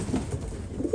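Pigeons coo softly in a loft kept for racing and breeding, low murmuring calls rising a few times over a steady room hum, fairly close, with no voices.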